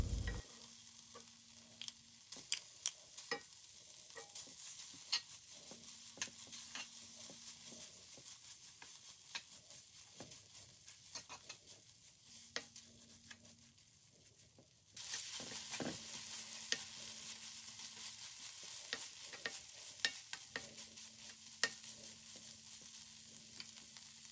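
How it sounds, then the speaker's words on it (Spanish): Ground meat frying in butter in a pan, a quiet continuous sizzle broken by frequent spoon scrapes and taps, with a faint recurring hum and a brighter, louder sizzle after a fresh addition partway through. "Ahora voy a agregar una cucharada más de mantequilla y voy a freír un poco."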